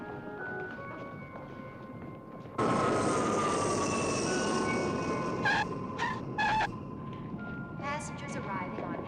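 At an airport, a jet airliner arrives as a sudden broad engine roar that swells in and holds steady, loud but with some distance, while people talk in the background.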